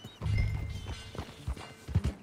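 Horse hooves clip-clop at a steady walking pace in the Red Dead Redemption 2 video game, with a low rumble underneath and occasional heavier thuds, moderately loud and close.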